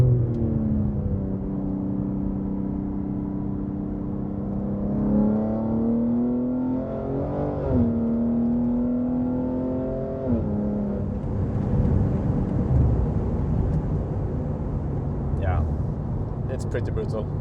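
A BMW M3 Competition engine pulls hard while accelerating, heard from inside the car with a low droning note that climbs through a couple of gear changes, loud and steady with road roar underneath.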